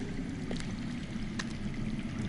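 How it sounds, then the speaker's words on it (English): Water rushing and gurgling beneath the ground in a game scene near a possible cave, a steady dense flow heard close and fairly loud with no voices. "That's water. I hear water. From underground."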